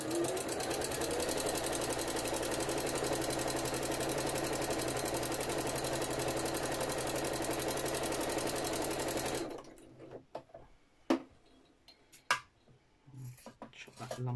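Sewing machine stitching a narrow seam on a quilted needle case, a steady fast mechanical whir and rapid needle chatter running loud and close for several seconds, then stopping, followed by quiet handling clicks and fabric rustle.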